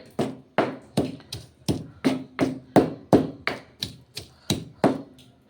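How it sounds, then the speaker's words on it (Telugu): About a dozen heavy, even thuds from pounding tomato and green chilli chutney in a stone mortar, struck at a steady rhythm of roughly two per second, close by with no talking. "ఇదిగోండి ఈ విధంగా దంచాలి"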